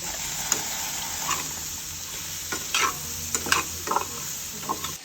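Chopped onions, green chillies and ginger paste sizzle in a hot pan while a utensil stirs and scrapes in several short bursts; no one speaks.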